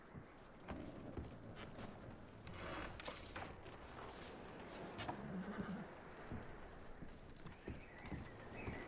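Horses in Red Dead Redemption 2 clip-clop and whinny amid steady outdoor ambience, hooves thudding irregularly at moderate distance with a brief neigh rising midway.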